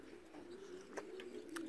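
Female racing pigeons coo softly at a loft on a calm, cool October morning, a faint low murmur with a few brief flutter-like bursts.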